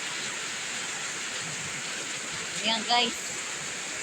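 Heavy rain pours steadily during a storm, a dense, loud hiss throughout, with a person speaking briefly near the end.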